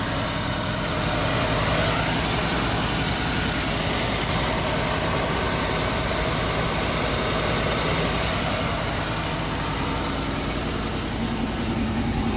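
A Ford Mustang engine idles with an exhaust leak, its blown-out exhaust putting out a loud, steady, rough drone that holds without a break and with no voices over it.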